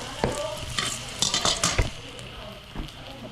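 Rice frying in a wok-style pan while a utensil stirs and scrapes it, producing a steady close sizzle broken by several sharp scraping and clinking strokes.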